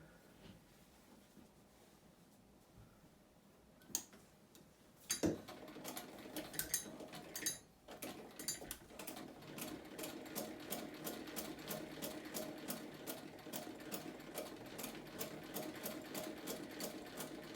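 A vintage sewing machine, a rival to a Singer, stitches through layers of denim, its rapid, steady mechanical clatter running continuously after a few quieter bumps and handling knocks at the start.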